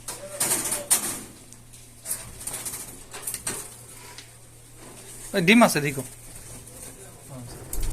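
Budgerigars kept in cages on a farm chirp and coo intermittently, with a louder burst of calls midway. A person speaks briefly over the birds, and faint clinks sound nearby.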